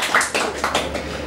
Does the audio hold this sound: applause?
yes